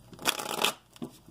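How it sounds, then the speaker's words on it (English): A deck of tarot cards being shuffled by hand: a quick rustling riffle lasting about half a second, followed by a softer flick, close and fairly quiet. "We're going to shuffle this up again."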